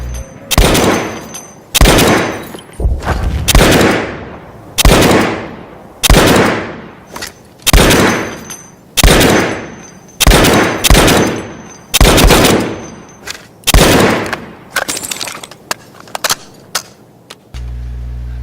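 Loud, close gunshots from a weapon fired while aiming down the sights in Battlefield 1, about fourteen sharp reports at a steady pace of one every second or so, each trailing off in a brief echo, with no talking.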